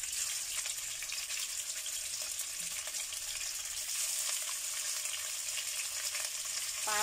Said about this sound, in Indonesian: Nah ini minyaknya sudah panas ya, kita goreng sebentar saja.